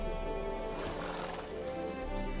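Horse in The Witcher 3 game neighs loudly and steadily across the clip, with clip-clop hooves mixed beneath the whinny.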